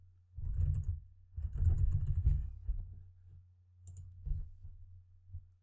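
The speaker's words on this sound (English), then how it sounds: "So let me type in my full name and see if that works." Someone types a name on a computer keyboard, quick clusters of soft clicky keystrokes in two main bursts with a few scattered taps, close and fairly quiet over a low steady hum.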